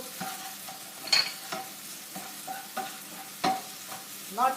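A spoon scrapes and stirs in a frying pan as green chili and tomato sizzle in the oil, with irregular clinks and scrapes over a low, steady frying hiss.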